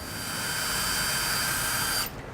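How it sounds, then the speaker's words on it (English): A power drill bores a pilot hole in the slotted area of a window friction stay, a steady whirring whine close up for about two seconds before cutting off abruptly. "The first thing we do is drill a pilot hole in the slotted area on the friction stay."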